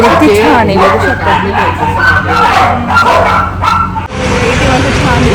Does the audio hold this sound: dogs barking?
yes